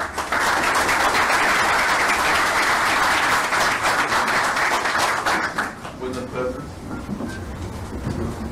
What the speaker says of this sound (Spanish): con fuertes palmas, por favor